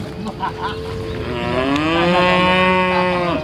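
A cow moos loudly and close at a cattle and buffalo market in Sangkha, Thailand, one long drawn-out low call rising and holding, over faint background market noise.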